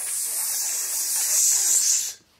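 A voice imitates a snake's hiss with one steady, breathy, hissing exhale lasting about two seconds, close and fairly loud, then cut off sharply.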